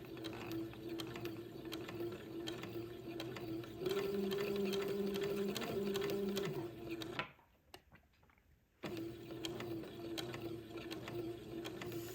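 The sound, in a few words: sewing machine stitching pleats on a baby gown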